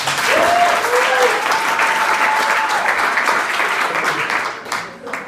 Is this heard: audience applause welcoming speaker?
yes